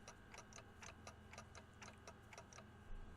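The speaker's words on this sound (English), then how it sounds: "Yep, ticking is all I can hear." Clock ticking from the Limbus Company video game, a steady run of crisp ticks about every quarter second over a low droning game background, with no voices.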